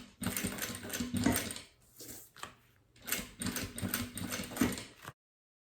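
A sewing machine stitches a clear plastic double pencil case in short bursts of rapid, rattling stitching separated by brief pauses, close and fairly quiet.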